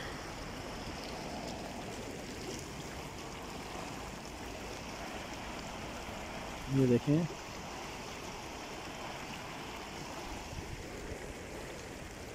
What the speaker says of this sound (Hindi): मुख्तलिफ अशिया बह रही हैं इस पानी में।